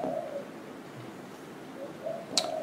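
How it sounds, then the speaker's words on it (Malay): A spotted dove (burung terkukur) coos softly in a repeated low pattern, fairly faint and set against a steady background hum, with no speech. "Burung ni pun dah mula sama-sama berzikir, bunyi tu, burung terkukur."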